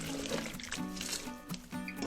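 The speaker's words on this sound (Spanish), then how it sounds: "Echemos todo el vaso de agua." Water is poured from a glass into a pan of fish escabeche, giving a brief close trickling splash that fades as the pour ends, set against a faint background hum.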